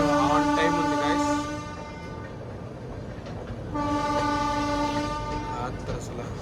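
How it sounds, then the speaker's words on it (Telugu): Visakha Express passenger train near Visakhapatnam sounds its horn in two long, loud blasts separated by a pause, over a steady rumble of the moving train. "ట్రైన్"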